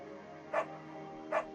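A beagle barks twice in the Firewatch video game, two short evenly spaced barks standing out over a steady low background hum, fairly close and moderately loud.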